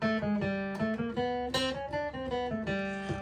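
A flatpicked acoustic guitar plays a quick run of single notes stepping through chromatic passing tones into G, bright and close, with no voices.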